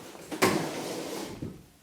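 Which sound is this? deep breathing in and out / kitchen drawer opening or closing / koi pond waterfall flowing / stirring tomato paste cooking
kitchen drawer opening or closing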